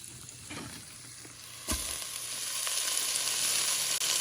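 Onion dropped into a pan of ginger and garlic brings a sharp burst of sizzling that swells into a steady, bright, close frying hiss, with a few stirring scrapes and no voices.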